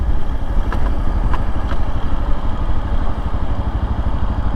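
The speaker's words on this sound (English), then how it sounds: "Riding the KLX400 to work today" A Kawasaki KLX400 dual-sport motorcycle being ridden, its single-cylinder engine a steady low rumble mixed with dense wind buffeting, close and loud throughout.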